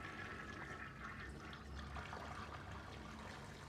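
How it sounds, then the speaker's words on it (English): A toilet flushes in Heavy Rain, a steady rushing, gurgling wash of water running throughout at moderate level. "Flush, always flush."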